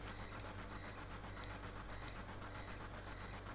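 In the video game Final Fantasy VII, a fast-moving train gives off a dense continuous rumble with a steady clatter, loud and unbroken throughout.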